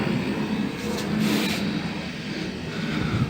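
A homemade air compressor built from two refrigerator motors runs with a loud, constant whirring drone that holds steady and close, with no talk.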